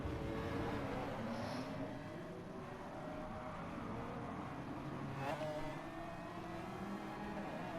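A race car engine drones steadily in Gran Turismo Sport at Interlagos, revving and shifting through the lap, its tone rising and falling at a moderate, even level with no talk.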